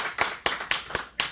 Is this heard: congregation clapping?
yes